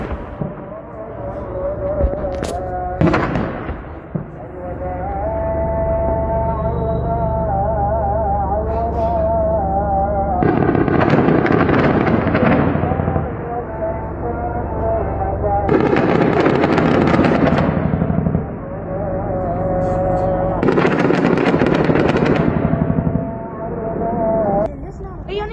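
Gunfire in a clash between US troops and Kataib Hezbollah: several loud, sustained bursts of shots break out over a steady voice that keeps talking throughout.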